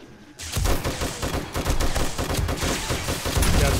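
SMG gunfire during a zombie horde night in the game 7 Days to Die, War3zuk mod: a dense, continuous stream of rapid automatic shots, loud and close, starting after a brief quieter moment and running to the end without talk.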